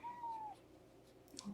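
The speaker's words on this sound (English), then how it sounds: "A little baby meow for a big boy." A small kitten gives a single short, rising-then-falling meow near the start, fairly quiet and close, followed by faint soft rustling and a brief higher squeak near the end.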